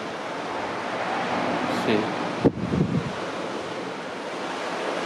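Strong wind roars steadily over the open sea, where a sailboat has capsized, with surf-like noise filling the whole stretch; a person briefly speaks near the middle amid a short gust burst.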